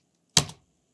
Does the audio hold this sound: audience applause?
no